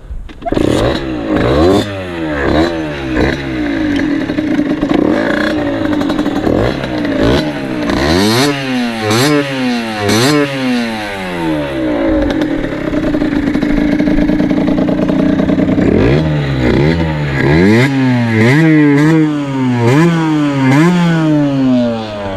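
A Scootfast motor scooter engine runs loud and close, repeatedly revving up and dropping back in sweeping surges, with a brief steadier idle in the middle before more rapid throttle blips.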